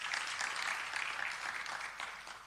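Audience applause at a community radio studio unveiling in Pretoria, a steady wash of many hands clapping that stays fairly even and sustained throughout.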